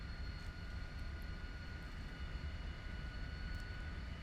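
Lockheed T-33 jet in Microsoft Flight Simulator, a faint steady engine whine and broadband roar with a thin high tone, constant throughout with no talk.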